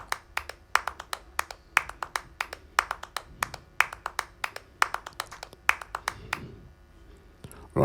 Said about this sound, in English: So it's like 5 layers of claps that I did in total.